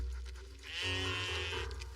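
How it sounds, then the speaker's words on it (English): A sheep bleats loudly and close by on an exposed valley crossing, one sustained wavering call lasting about a second, with no talk over it. "Sheep!"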